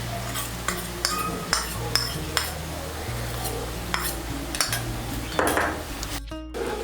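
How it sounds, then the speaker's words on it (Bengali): A spoon stirs a paste of ground poppy seed, melon seed and cashew through a pan for a pointed gourd dish, with scraping, clinking strokes against the metal over a soft background hiss. "পোস্ত, 4 মগজ আর কাজু বাদাম বাটাটাকে ভালো করে মিশিয়ে নেব"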